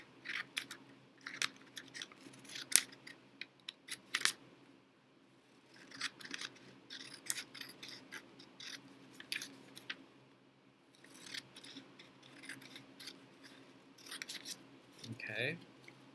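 Scissors cutting along lines on a sheet of paper, giving a series of quiet, close snips in irregular bursts with short pauses between them.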